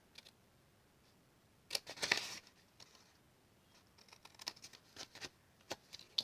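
Scissors snip the corners off a paper box for a Valentine's explosion box, with a quick burst of crisp cuts followed by scattered lighter snips and paper rustles, close and quiet.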